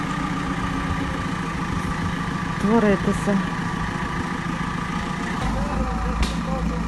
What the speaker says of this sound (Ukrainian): трактор тут щось ламає. Дерева.